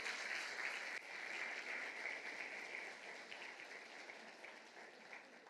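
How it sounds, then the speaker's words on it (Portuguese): A church congregation applauds the brethren leaving the front during a service, the clapping faint and distant, holding steady and then tapering slightly toward the end. "Uma salva de palmas para os irmãos"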